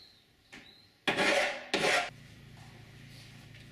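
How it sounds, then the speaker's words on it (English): Cut metal panel edges on a Mercedes Sprinter van being deburred, two loud rasping strokes of about half a second each, close up, after a faint lighter scrape, then a quiet hum. "Now that I've cut the panel out, I'm just deburring the edges like I did with the roof light, smooth them up"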